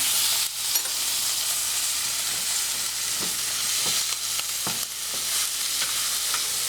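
Steak searing in a hot pan with garlic, a continuous loud sizzle and hiss up close, punctuated by intermittent scraping and spooning taps as fat is basted over the meat.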